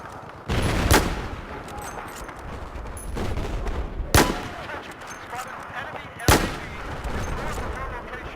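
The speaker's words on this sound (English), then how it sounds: "Battlefield 4 is up next with both some rushing automatic gunfire as well as some precision sniping" Battlefield 4 gameplay with bursts of automatic gunfire and sharp, booming sniper shots, three loud reports spaced a few seconds apart over continuous rattling combat noise.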